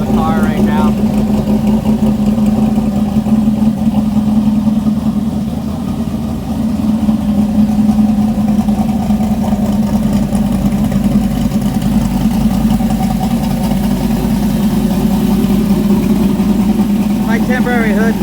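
A drag-prepped car fitted with an MSD two-step idles steadily in a driveway during its warm-up heat cycle, giving a loud, even, low engine hum with no revving.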